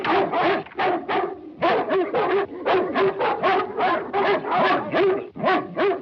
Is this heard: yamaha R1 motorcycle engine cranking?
no